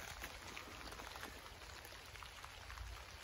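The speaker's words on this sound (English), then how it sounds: "now it's starting to rain" Rain beginning to fall outdoors during a Husqvarna 701 LR motorcycle ride, a faint, steady hiss of fine drops with scattered soft ticks, continuous and even throughout with no talk.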